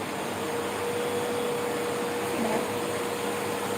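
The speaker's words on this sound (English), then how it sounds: "So vacuum and sanitize. So here, this heat is going to kill that virus." A steady, unbroken mechanical hum of a vacuum cleaner with a heat-sanitizing function runs close and constant throughout, with a faint tonal whine and no talking over it.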